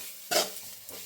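A brief scrape and clatter of a spoon stirring vegetable thoran in a pan, one sharp stroke followed by a softer second touch, close and quiet.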